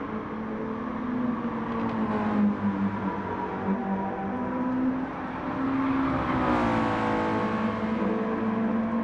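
Mazda race car in the Gran Turismo 7 video game, engine revving and shifting as it is thrown sideways through a chicane; a steady mid-level engine whine rises and falls, climbing sharply near the end, heard alone.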